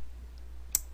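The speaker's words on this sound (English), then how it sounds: "I'm just going to select all and click the sign up button" A single computer mouse click pressing a sign-up button in a web form, one sharp, faint tick against quiet room hum.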